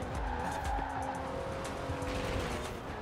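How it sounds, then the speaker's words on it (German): Tyre wheelspin and squeal from a Porsche Carrera S launching off the start in Forza Horizon 4, a continuous engine drone with a steady tyre-squeal tone running unbroken and fairly loud for the whole stretch. "Du hast ein bisschen einen Wheelspin, aber kommst gut weg noch vom Start."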